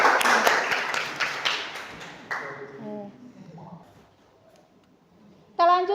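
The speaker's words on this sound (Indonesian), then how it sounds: "Tepuk tangan untuk kita semua." A classroom group gives a round of hand clapping during a teacher-training lesson. The applause is dense and lively for about two seconds, then fades into quieter room sound, and a short tonal burst follows at the end.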